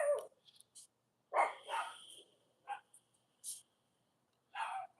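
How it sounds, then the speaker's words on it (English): A small female dog barking indoors, several loud sharp barks in irregular bursts with pauses between them, close by and alone. "for a small dog, she has the biggest bark"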